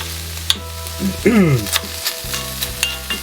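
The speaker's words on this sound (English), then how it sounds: "I get it seared properly and that caramelisation of the meat can add to the flavour." Pieces of beef steak sear in a hot pan, a close, steady sizzle with stirring clicks and scrapes, and a short rising whine partway through.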